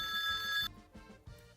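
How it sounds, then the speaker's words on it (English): A telephone bell rings with a bright, steady tone for just over half a second, then cuts off abruptly, leaving only quiet low background sounds. "The phone is ringing."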